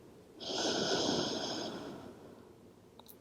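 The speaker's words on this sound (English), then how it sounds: "Slow out your mouth exhale. Find another inhale." A slow, airy breath fills the space in one long, smooth whoosh that builds and then fades, close and fairly soft, with no voice over it.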